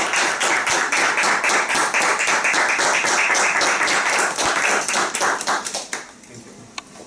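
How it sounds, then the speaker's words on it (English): Toastmasters meeting audience claps for about six seconds, a close, loud run of distinct hand claps that thins out and stops near the end, followed by a few faint taps. "please help me or join me in giving an applause to the CSC Chennai Toastmasters"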